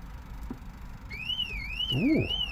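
Car alarm panic mode going off on a 2013 Volkswagen Passat CC, a wavering electronic siren tone rising and falling in steady sweeps, joined near the end by a brief lower horn-like whoop, fairly close and loud over faint background noise.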